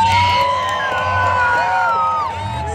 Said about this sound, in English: Let's give them one big loud crowd cheering scream right now on the count of three.